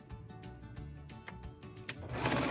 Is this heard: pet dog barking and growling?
no